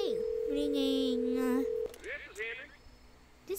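A steady electronic phone ring tone with a second lower warbling tone on a Roblox call, followed by brief chatter and faint tones.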